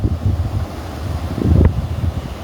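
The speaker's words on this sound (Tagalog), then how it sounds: "Malakas kasi ang hangin, kaya naabutan yung yung talsik ng tubig dito sa camera." Strong wind buffets a phone camera microphone during river net fishing, with water splashing onto the camera, a steady low rumble of close wind noise running throughout, swelling loudest near the end, with no speech.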